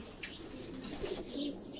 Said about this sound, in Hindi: ये तमाम जो है उड़ने वाले कबूतर हैं जी।